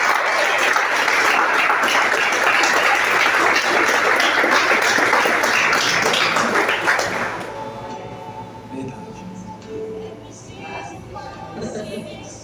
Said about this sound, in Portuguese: Você pode aplaudir com bastante alegria em nome de Jesus.